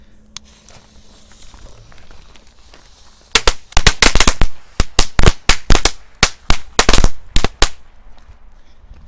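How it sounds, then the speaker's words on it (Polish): Lady Cracker firecrackers set against a bottle go off in a rapid, irregular string of about twenty sharp, loud bangs, close by, after a quiet stretch. "A teraz zobaczymy, czy petard Lady Cracker mają na tyle mocy, żeby rozwalić taką butelkę"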